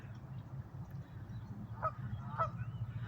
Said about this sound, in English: It's like it's doing it with a goose noise.